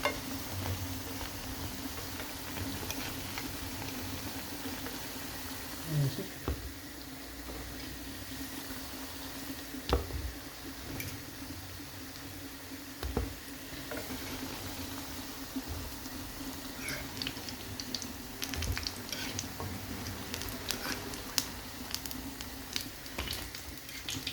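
Masoor dal piyaju fritters frying in oil, a faint continuous sizzle and bubbling with scattered small pops and crackles running throughout, no voices.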